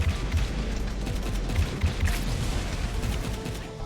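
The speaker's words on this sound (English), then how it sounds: "We're about ready to fire off another missile here." A missile fires in the roguelite mining game Wall World amid a burst of rapid, rumbling booms and crackling blasts, loud and dense, running continuously for several seconds with no talking.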